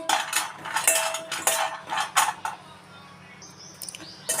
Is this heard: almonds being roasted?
yes